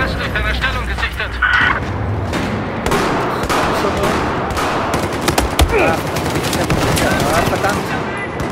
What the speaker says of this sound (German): Ich habe einen feindlichen MG-Schuss genau östlich deiner Stellung gesichtet